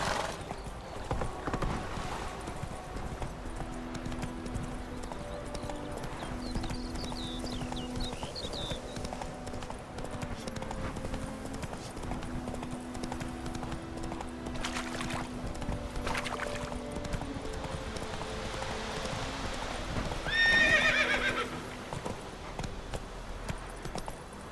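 Horse hooves clip-clop steadily along in The Witcher III, mixed with ambient game sound and a brief louder swell near the end.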